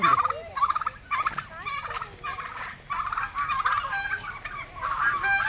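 Loud, repeated honking and gobbling bird calls at an eco park in Angul come in bursts that overlap throughout, fairly close and with no talking.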